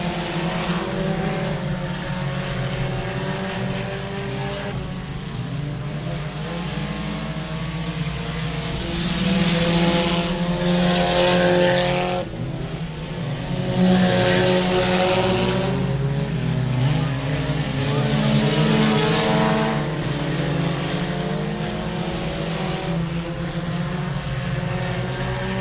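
Race cars roar around the dirt oval at 67 Speedway of Texarkana, engines droning steadily and swelling into louder passes as the pack sweeps by, a continuous far-to-near rumble with a faint announcer underneath.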